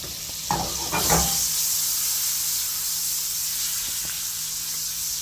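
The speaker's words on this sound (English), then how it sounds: "So I'm adding some butter." Butter melts in a pan on the stove with a steady, soft sizzle and hiss throughout, after a couple of brief clatters of cookware at the start.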